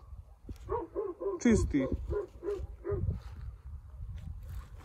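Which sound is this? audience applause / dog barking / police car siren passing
dog barking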